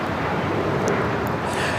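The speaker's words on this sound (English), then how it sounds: "1621 taking off to Orlando on the MAX 8" A United Airlines Boeing 737 MAX 8 takes off at LAX, heard as a steady broadband jet roar held at an even level throughout, slightly muffled and wind-blown, with no voices.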